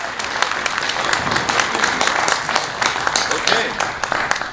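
Steady applause from an audience in a room during a homeownership summit, with dense clapping holding at an even level throughout and no talk on top of it.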